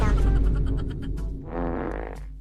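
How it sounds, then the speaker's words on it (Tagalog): A loud, low, sputtering fart in a classroom comedy skit, with a long raspy burst followed by a second shorter buzzing blast, close and dominating the short clip. "Umutot ako."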